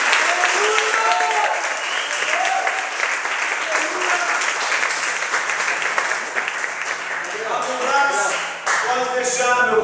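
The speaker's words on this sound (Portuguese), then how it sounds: "vamos aplaudir ao Senhor" A church congregation claps for the Lord at the close of a service, continuous full applause running throughout, with voices and shouts rising over it near the end.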